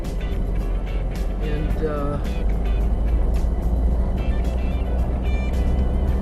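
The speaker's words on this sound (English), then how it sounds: "similar Mustang that I'm driving right now" A 1967 Ford Mustang driven on a snowy road, its engine a continuous low rumble with tire and road noise running under someone talking throughout.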